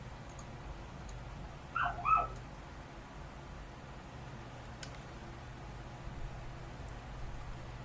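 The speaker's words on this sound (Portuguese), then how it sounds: "É o cachorro da vizinha latindo." A neighbor's dog gives a brief pair of faint barks in the distance, heard once over a quiet room hum with steady low background noise.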